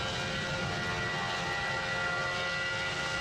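A passenger airliner descends, its engines giving a steady, broad rushing drone that stays even and unbroken throughout, fairly distant and moderately quiet.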